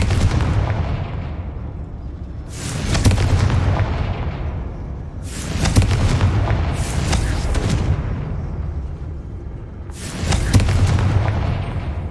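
Blasting-spell explosions in Hogwarts Legacy come as four loud, booming blasts, each with a long rumbling tail, spread evenly over several seconds.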